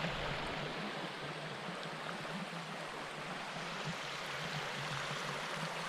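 Creek water flows steadily at a trailside campsite, a continuous broadband rush without pauses and no voices.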